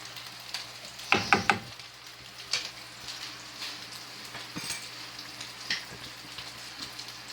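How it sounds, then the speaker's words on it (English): A spoon stirs a pot of homemade spaghetti sauce with meatballs, giving a few quick scraping, clattering knocks against the pot early on over a low simmering bubble, then softer occasional stirs. "Now let's give that a quick stir."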